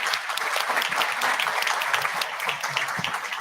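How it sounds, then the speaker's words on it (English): Steady applause from an audience at a World Food Day event session, honoring a panel that ended with an economist; dense even clapping continues at a constant level throughout, with no voices standing out. "Give a round of applause to these panelists."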